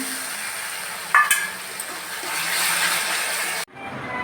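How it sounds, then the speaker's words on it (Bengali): Fish and spices frying in a pan with a little water, a steady close sizzle with one sharp clatter early on, cut off abruptly near the end. "মাছটা বসাচ্ছি, মশলাটা একটু ভাজি"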